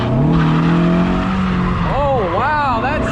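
A Mazda MX-5 Miata drift car revs hard with a steady engine drone, then swings out into a wavering, rising and falling tire squeal, loud and close, with a voice over the top.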